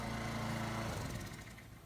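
A small lawn mower engine runs at a steady throaty drone nearby, then its pitch sags and the sound thins out as it slows toward stalling.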